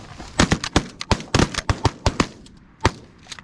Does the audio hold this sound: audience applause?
no